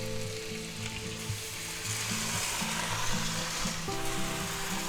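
A frozen quarter-pound all-beef hamburger patty sizzles steadily in a hot pan, close and continuous frying crackle with a low tonal hum running underneath.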